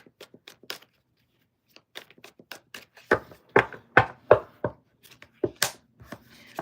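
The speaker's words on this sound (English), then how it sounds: "I'm going to do 3 more shuffles." Tarot cards are shuffled by hand in a quiet room, giving a run of sharp, separate taps and flicks that start soft and sparse, then grow louder and more clustered before easing off.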